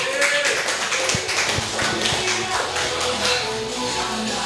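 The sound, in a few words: audience applause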